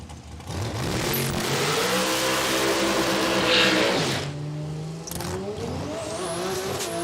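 A dragster at a drag strip roars close by, engine revving in a long rising wail that cuts off sharply, followed by another climbing rev as it pulls away.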